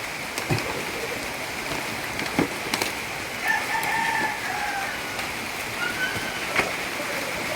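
A rooster crows among clucking chickens in a noisy outdoor setting, the calls standing out mid-distance over a constant hiss of background noise, with scattered knocks and no clear talk.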